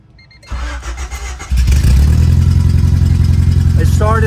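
An abandoned Honda Civic EF hatch, rebuilt, cranks briefly and catches on the first try, then settles into a loud, steady idle with the exhaust open, close by and dominating.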